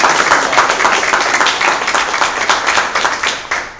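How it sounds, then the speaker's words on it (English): A room of hack-night attendees breaks into loud, close applause, dense overlapping claps sustained at full strength before tapering at the end. "How about a round of applause for Angie?"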